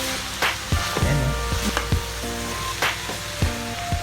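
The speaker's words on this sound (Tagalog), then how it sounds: "Igigisa natin ito dito." Meat and pig offal sautéing in a pan for Filipino bopis, a steady close sizzle with sharp clacks of a utensil stirring and tapping the pan, no voices.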